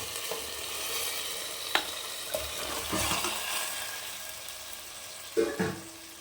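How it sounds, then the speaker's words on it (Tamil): Goat head meat being stirred in a frying pan, a soft steady sizzle broken by a few sharp scrapes and clinks of a utensil against the pan, close and fairly quiet, no talking. "நல்லா பரட்டி விடுங்க"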